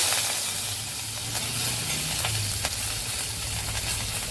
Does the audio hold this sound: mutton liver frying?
yes